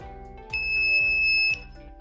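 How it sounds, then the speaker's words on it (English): An overload alarm buzzer on an IR student counter circuit sounds one steady, piercing electronic tone for about a second, loud and close, over a repeating low electronic hum. "a buzzer blows."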